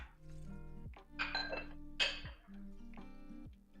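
A butter dish being handled in a home kitchen, giving a few light ceramic and glass clinks and clacks, close and fairly quiet, with brief ringing tones between taps.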